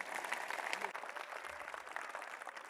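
An audience clapping after a Hindi poem recitation, a dense and steady wash of applause from many hands throughout, fairly distant and soft.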